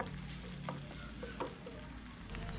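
Ground beef, onions and garlic sizzle steadily in a hot pan, with occasional soft scrapes and stirring clicks, no voices.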